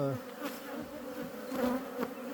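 A honeybee colony at the hive, a dense steady buzzing hum from many bees close by, with individual bees droning past the microphone.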